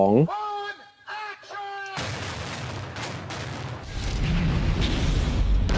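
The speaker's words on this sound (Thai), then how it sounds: "การระเบิดคฤหาสน์มูลค่า 40 ล้านดอลลาร์หลังนี้" After a brief voice, a massive explosion of a $40 million mansion in Bad Boys II erupts into a long roaring rumble that swells louder toward the end, with debris-like crackle throughout.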